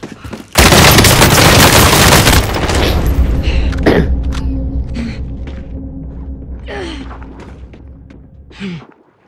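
Gunfire in the Call of Duty: Warzone video game, a loud burst of rapid shots that fades into a rumbling echo, followed by scattered quieter sounds and a few brief voices.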